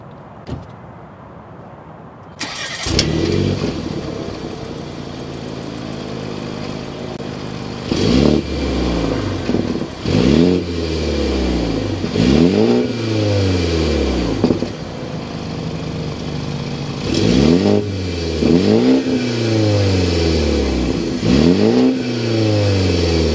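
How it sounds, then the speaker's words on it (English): A 2023 BMW 530i turbo four-cylinder cranks and catches after a quiet opening. It settles into idle, then gives a series of sharp revs that swell and fall away in repeated bursts, heard up close from outside with no voices. "start it up so you can hear that exhaust note"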